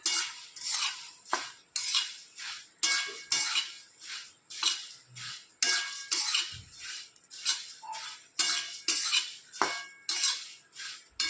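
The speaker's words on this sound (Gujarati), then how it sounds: "હવે આપણે મમરા વઘારીશું" A metal spoon repeatedly scrapes and clinks against a pan as puffed rice is tossed in a tempering of turmeric, salt and asafoetida, steady rhythmic strokes about once a second, close and loud, with no voices.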